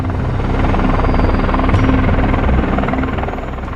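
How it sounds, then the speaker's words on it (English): An MV-22B Osprey tiltrotor aircraft makes a loud, continuous rotor roar with a steady throbbing chop, heard close and alone. "The MV-22B Osprey's most distinctive feature is its tiltrotor design."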